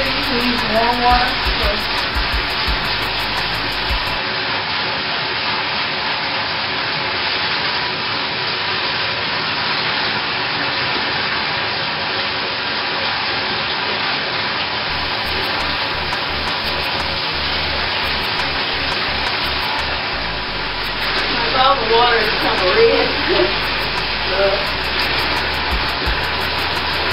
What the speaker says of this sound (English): Just keep on rinsing your hair out until see there's no more color coming out.